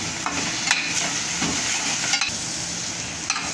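Sambar masala and turmeric stirred and sautéing in a pan for traditional Marathi dal vangi, with scraping stir strokes over a soft steady sizzle, close and moderate in level.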